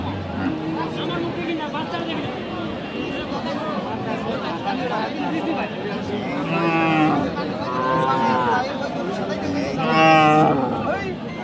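Cattle lowing at a Bangladeshi livestock market where dairy cows with calves and young bulls are sold, several loud moos rising around 7 and 10 seconds over a steady hubbub of bargaining voices and crowd chatter.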